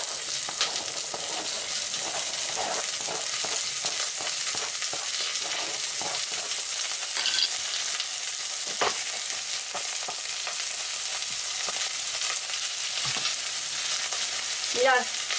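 Onion and carrot sizzle steadily in a hot pan with garlic for a soy bolognese, with scattered stirring scrapes and clicks of the utensil against the pan.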